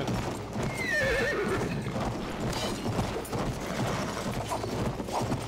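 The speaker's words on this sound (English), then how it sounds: "I got the horse. I got a horse." Horse in the video game Battlefield 1, a whinnying neigh near the start followed by steady clip-clop hooves over a dense battlefield din, with no talk.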